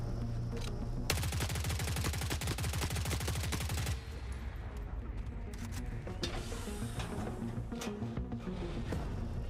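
A turret in The Forever Winter fires a rapid, dense automatic burst lasting about three seconds, followed by scattered distant shots and rumbling battle noise at a fairly low level, with no talking.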